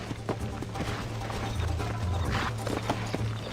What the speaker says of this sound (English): cavalo louco!